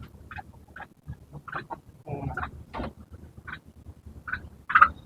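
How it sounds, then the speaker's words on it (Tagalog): A turkey gobbles and clucks in a poultry breeding pen, a series of short, close, warbling calls scattered among other fowl noises, with one louder call at the end. "yung pabo natin."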